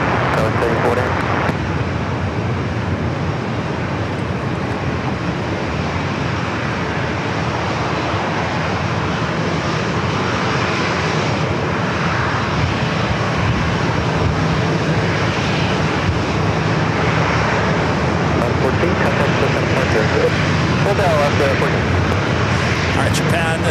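A Dreamliner's jet engines roar steadily near the runway at San Diego airport, a broad continuous rush with wind buffeting the microphone, while someone talks over the noise.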